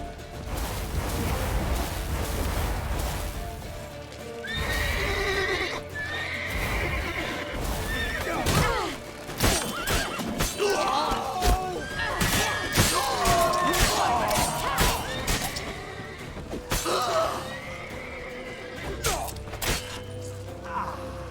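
Horses gallop and neigh in The Witcher 3 video game, loud clip-clopping hoofbeats and repeated whinnies amid crashing, smashing impacts, with shouting voices mixed into the chaotic scene.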